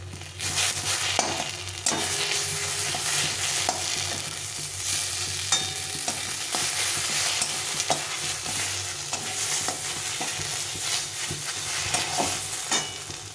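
Continuous stir-frying in a pan, a steady close sizzle broken by frequent scraping and tapping of a spatula against the metal, with no talking.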